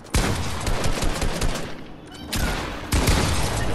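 Rapid bursts of gunfire from a Fortnite Chapter 2 match, loud and close, with dense automatic shots coming in clusters and a brief lull in the middle before the firing resumes.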